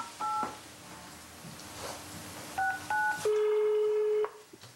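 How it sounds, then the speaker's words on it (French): A telephone is dialed for a call: two bursts of paired keypad tones, then a single long ringback tone that holds for about a second, all clear and close over a quiet background. "Le soir, Mary-Anne décide d'appeler Patrick"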